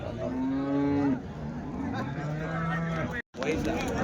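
Cows at a Sunday cattle market in Chintamani low out in long, loud moos, one following another up close against a steady crowd hum.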